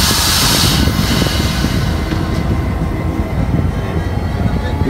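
A metre gauge train on an African railway on a dusty line gives off a loud, close, continuous roaring rumble that holds steady throughout, with no talking over it.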